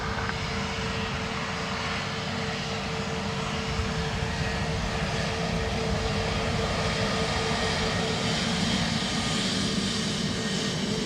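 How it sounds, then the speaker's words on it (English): An Airbus A320neo jet at Dublin Airport on a windy day, producing a steady, loud, continuous engine roar with broad rumbling noise that holds without a break throughout. "This is one of the 320 Neos to Heathrow."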